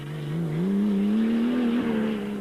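A Toyota 1000 rally car races along a sandy, twisty road, its engine note rising steadily and holding a sustained, loud drone as it accelerates.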